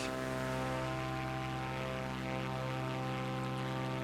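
A small propeller airplane cruising at low speed in Microsoft Flight Simulator 2024, a steady droning engine hum with strong tonal harmonics, loud and continuous without any talk.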